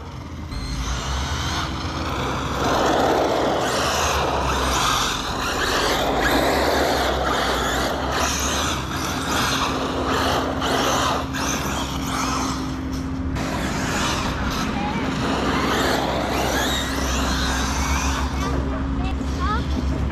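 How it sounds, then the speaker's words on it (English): An Arrma Mojave EXB 8s RC car bashing around a park, its motor whining loudly and rising and falling in pitch as it speeds close by, with people talking over it. "It's an RC car, it's always gonna be faster."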